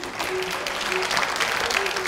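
Audience at an event breaking into steady applause, dense hand clapping sustained throughout, fairly close, with a voice speaking faintly underneath.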